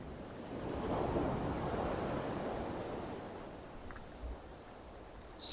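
Sea surf washes steadily onto the shore at Steephill Cove on the Isle of Wight, a continuous broad rush of breaking waves mixed with wind noise on the microphone, ending in a short louder gust.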